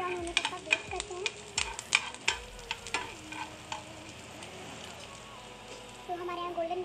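Paneer sizzling in a pan on a low flame, with a steady fry hiss and repeated clanks and scrapes of a spoon stirring it, and a voice talking over it.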